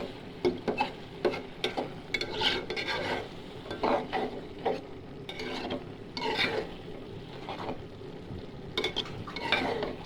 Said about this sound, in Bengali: শুটকি বোনা করে ফেলছি